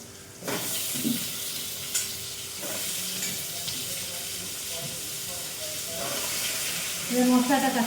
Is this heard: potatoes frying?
yes